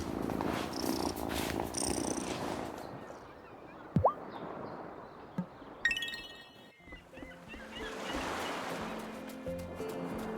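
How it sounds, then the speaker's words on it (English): A cat purrs softly in the farming life-sim game Wylde Flowers, a low steady rumble set among gentle outdoor ambience and light background tones. "Hi, kitty."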